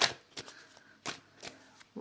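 Tarot cards are shuffled by hand in a few quick, crisp riffling bursts separated by short pauses. The sound is close and moderately quiet, and a voice is heard briefly at the end.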